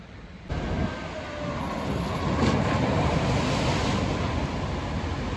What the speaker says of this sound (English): This is the park's log flume attraction, which I've just ridden.